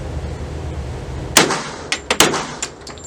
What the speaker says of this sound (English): This weapon shoots like a .22 despite the fact that it's firing 45 ACP.